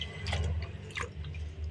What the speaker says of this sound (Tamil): இதையும் நம்ம தண்ணியில் போட்டு கழுவிட்டோம் கைஸ்.